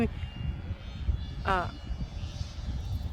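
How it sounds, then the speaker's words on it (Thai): An airplane passes overhead during a kite-flying session, heard as a broad steady roar beneath outdoor wind noise, with a voice and a brief rising whistle-like tone in the middle. "เครื่องบินผ่านพอดีค่ะ"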